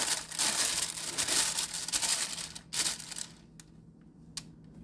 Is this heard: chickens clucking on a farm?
no